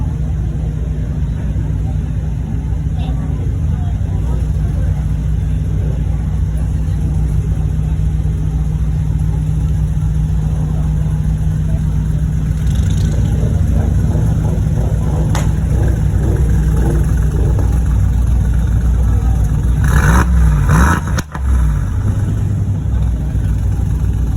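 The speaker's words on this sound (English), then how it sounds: "The G-Wagon brought to a different level. Sounds like supercharged to me." A supercharged Mercedes G-Wagon's engine rumbles steadily in a busy Cars and Coffee lot, with a brief sharper burst of revving near the end, heard under ongoing conversation and crowd noise.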